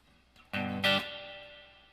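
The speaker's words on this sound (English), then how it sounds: "it has that overall spring reverb characteristic" A Peavey guitar amp with its spring reverb turned up: two loud, distorted strummed chords ring out, then decay in a long, smooth reverb tail with no obvious spring splash.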